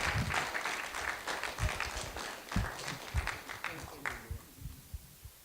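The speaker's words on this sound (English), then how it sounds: "I want everyone to clap for these sisters" Audience applause for two sisters at a talk, a dense patter of claps that holds steady for several seconds and then thins out, with scattered louder claps near the end.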